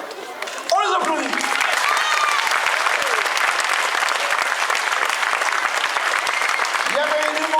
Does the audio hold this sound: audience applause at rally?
yes